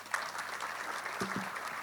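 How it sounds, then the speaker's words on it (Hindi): Audience in an Indore hall clapping briefly at a talk by IPS officer Manoj Kumar Sharma; faint, short burst of applause with a low voice murmuring underneath. "उनके लिए एक बार ज़रूर ताली बजाना चाहिए हमको"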